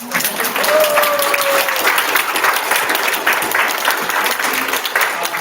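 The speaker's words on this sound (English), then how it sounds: "Okay, you can clap." An audience at a youth summer camp talk claps together, a dense, steady burst of applause that carries on for several seconds at full strength before tapering slightly.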